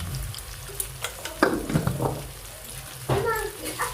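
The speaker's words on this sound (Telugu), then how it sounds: "ఇది మంచిగా బ్రౌన్ కలర్ వచ్చేంత వరకు వేగనివ్వాలండి." Ivy gourd curry with onion and salt fries in a pan with a soft sizzle. Occasional stirring scrapes and clatters cut through it, and a voice talks intermittently over the cooking.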